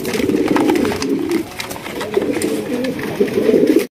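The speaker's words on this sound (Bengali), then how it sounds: "এখানে রয়েছে একজোড়া কিং কবুতর, হোয়াইট কালারের কিং" A pair of white king pigeons coos in repeated soft, throaty bursts close by, with a short quiet gap midway before the cooing resumes.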